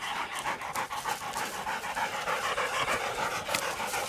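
Hunting dogs pant hard and fast after pulling down a large wild boar during a night hunt, a steady, close, continuous breathy rhythm filling the whole stretch with no voices.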